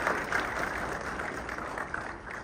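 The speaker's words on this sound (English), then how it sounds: "I think we need to clap for ourselves as a country." At a renewable energy green bond event, a crowd claps steadily at moderate volume, a soft wash of applause heard alone at some distance.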